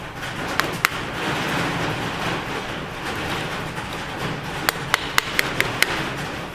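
A brass tool taps a piston down into a 5.4 engine block during a build, giving a few sharp metallic knocks, then a quick cluster of light taps over a low background hum.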